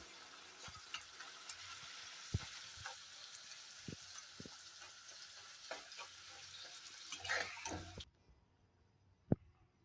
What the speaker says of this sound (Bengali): এবার আস্তে আস্তে আমি সবগুলো ভেজে নেবো এরকম করে।